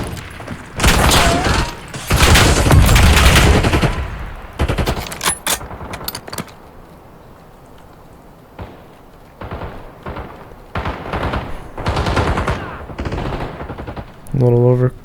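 Assault rifle gunfire in Black Ops 6, loud rapid bursts of automatic fire repeating in clusters with brief pauses between them, punctuated by a few heavier thumps.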